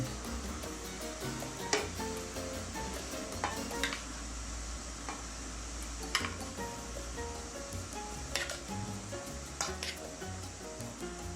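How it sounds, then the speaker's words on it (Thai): Water boils in a pot while instant noodles cook for a spicy Thai noodle salad with pork sausage. A steady bubbling hiss runs throughout, broken by occasional light clinks of a utensil against the pot. "ระวังนี่น้ำก็เดือดอยู่เนาะ"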